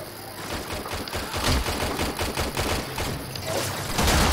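Rapid bursts of automatic gunfire from the Warframe video game, loud and continuous, with dense rattling shots running from start to finish and no talk over them.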